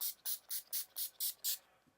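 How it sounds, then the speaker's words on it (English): NYX matte finishing setting spray being pumped in seven quick, even hissing bursts close to the microphone, followed by a brief pause and a faint soft sound. "last thing I'm going to do is spray some NYX matte finishing spray"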